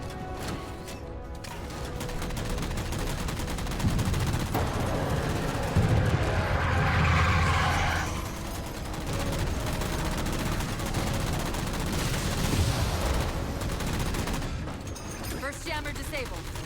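Sustained automatic gunfire from a Halo 4 firefight, shooting down jammers, rattling steadily throughout with dense bursts and a heavier stretch in the middle, no speech over it.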